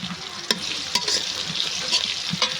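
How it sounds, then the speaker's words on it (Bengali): Whole cumin seeds sizzle steadily in hot oil alongside bay leaf for a vegetable khichuri, with the close, bright frying hiss broken by spoon taps and stirring scrapes. "গোটা জিরে একটু দিয়ে দিচ্ছি।"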